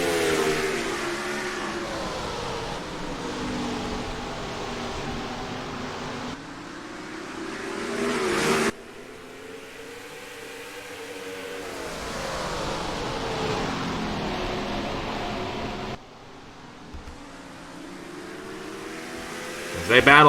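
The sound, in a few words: race trucks racing, from a racing video game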